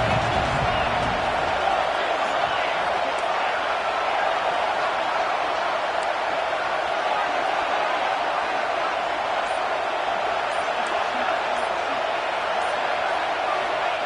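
College football stadium crowd at Illinois versus Penn State, a loud, dense and unbroken roar that stays steady for the whole stretch as fans rally behind the defense, with a commentator talking over it.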